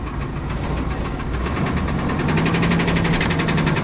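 A 1971 Oldsmobile Delta 88 with a 455 V8 idles with a mechanical fault, a steady rumbling engine carrying a rapid, rhythmic knocking tick that grows more pronounced toward the end.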